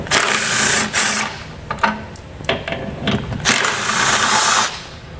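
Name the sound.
ratchet with 17 mm socket removing tow hook bolts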